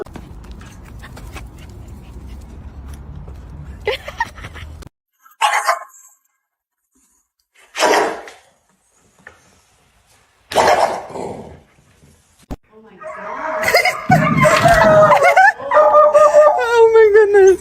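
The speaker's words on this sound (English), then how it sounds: "Look at all these hound dogs." Several hound dogs bark in loud, separate bursts with pauses between them, then a longer stretch of overlapping howling and baying from the pack.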